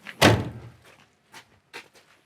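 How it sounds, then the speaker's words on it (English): The car door of a 1976 Pontiac Trans Am is swung shut with one solid, heavy slam that rings out briefly, followed by a few faint light clicks and knocks. "I didn't have that door shut all the way."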